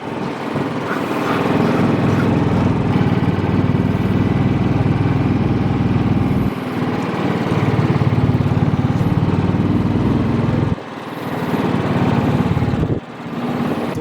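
A lawn mower engine running steadily at a farmhouse, a loud continuous close-range drone with a few brief dips and surges in the middle, no talking over it.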